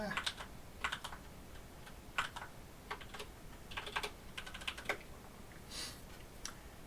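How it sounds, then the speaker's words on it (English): Quick, irregular clicking of keys on a computer keyboard, typed up close and fairly quietly, with short pauses between bursts and no voices. "as I'm typing it out"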